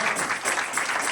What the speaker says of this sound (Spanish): Dele un gran aplauso al Señor.